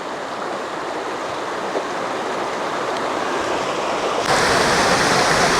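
A creek rushes steadily over rocks beside a hiking trail near Catawba Falls in Old Fort, North Carolina, a dense continuous wash of water that swells slightly louder near the end, with no voices.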